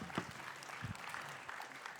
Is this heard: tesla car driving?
no